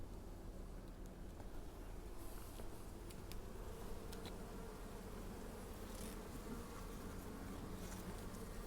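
Honey bees buzz around a hive during installation of a nucleus colony, a continuous, faint, wavering drone of many insects with no talking.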